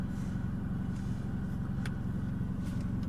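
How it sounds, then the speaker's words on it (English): A car drives down the road, a steady low engine rumble heard from inside the vehicle, constant and unbroken with no talk. "you can see him driving down the road"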